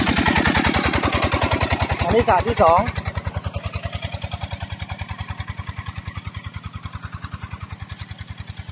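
A water pump engine runs by a pond in Nakhon Sawan, Thailand, with a steady close thudding pulse that surges briefly as it is revved and then settles. Someone talks over it.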